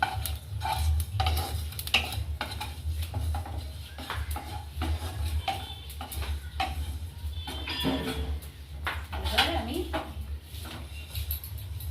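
Coriander and cumin seeds sizzle and crackle in a hot pan, with stirring scrapes and clinks throughout, close and steady under a low background hum.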